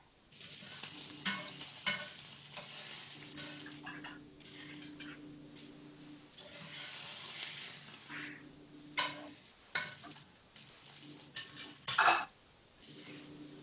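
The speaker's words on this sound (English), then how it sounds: "So how's everyone doing on their frying?" Blintzes frying in a pan, with a continuous soft sizzle broken by repeated stirring, scraping and clinks of utensils against the pan, one sharp clatter near the end, no voices.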